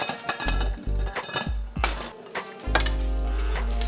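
A metal pot lid clanks down onto a pot of boiling pasta, giving a few close, sharp clinks and rattles followed by a steady low rumble of the boil.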